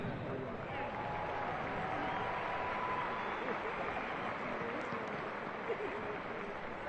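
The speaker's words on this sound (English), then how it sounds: "Please give a round of applause for the West Point Band" A large outdoor crowd at a West Point commencement ceremony applauds the West Point Band, a continuous, distant wash of many hands clapping at a low, even level throughout.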